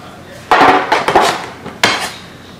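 Clattering handling of a metal bread loaf pan being greased for homemade white bread, a few close, loud knocks and scrapes in short bursts with no talking.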